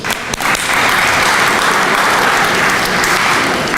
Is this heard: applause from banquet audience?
yes